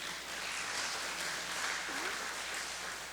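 Scattered applause from a congregation at a Saturday church revival meeting in Pocheon, a steady broadband patter of hand claps lasting a few seconds at moderate, slightly distant level with no talking.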